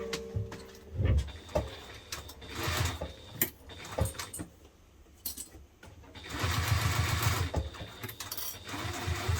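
A sewing machine stitches through thick layers of fabric on a hipster bag, running in uneven bursts with brief pauses and a steadier, louder run near the end, close and without talk.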